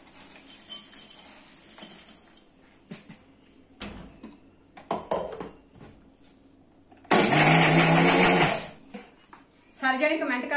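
An electric mixer grinder brought from India grinds mixed spices in a short, loud burst of whirring that lasts about two seconds. A person talks before and after it, and there is kitchen clatter.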